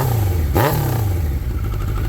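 A 2003 Suzuki Hayabusa motorcycle engine idling while running rich, a loud steady close-up rumble with a brief blip in revs early on.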